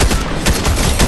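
Rapid, loud gunfire in Fortnite, a dense burst of close shots filling the whole short moment.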